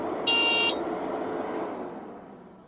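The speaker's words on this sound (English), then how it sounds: "And this is your horn." A Chinese mini skid steer's horn gives one short, shrill electronic beep of about half a second, up close over faint background noise, with no speech.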